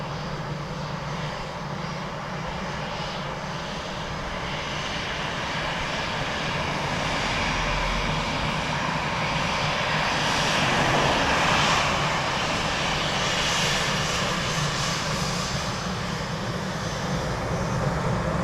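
Delta flight DL44 from JFK, an airliner landing at Dublin Airport, heard as a broad, steady engine roar that swells toward the middle and holds, fairly loud, with no voices.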